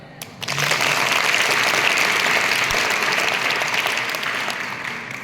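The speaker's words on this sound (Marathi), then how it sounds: "टाळ्या वाजवता का?" An audience at a Constitution Day school skit claps in sustained applause, loud and dense from start to finish after a brief quieter lead-in, with no speech.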